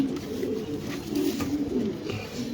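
Damascene pigeons with two squabs cooing at a pigeon farm in Mirpur, Dhaka, a soft continuous low murmur of coos running steadily throughout, close by, with no voices.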